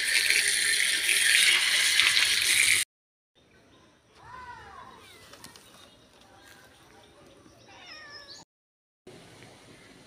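A tap runs loudly for several seconds while curry leaves are rinsed, then cuts off abruptly, followed by quieter kitchen sounds with a cat meowing repeatedly nearby and brief trickles of water.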